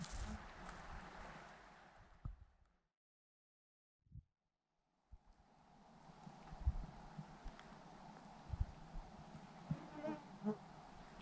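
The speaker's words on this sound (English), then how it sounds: "What you hear is not rain hitting my fly, it's the bugs." A constant faint buzzing of many insects with scattered soft taps of bugs hitting a tent fly, cutting out briefly to near silence before resuming, in the Mealy Mountains.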